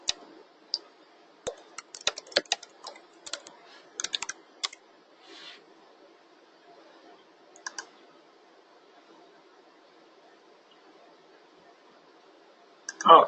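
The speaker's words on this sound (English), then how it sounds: "I'm going to type a message." Scattered keystrokes tap on a computer keyboard during a webinar, quick clicks in short irregular bursts with long quiet gaps between them, close and fairly soft.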